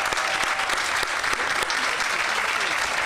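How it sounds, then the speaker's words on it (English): A crowd at a ribbon-cutting grand opening of a teen warehouse applauds loudly and continuously, a thick wash of clapping filling the whole stretch, with some faint voices mixed in. "Clap it up for yourselves, ladies and gentlemen."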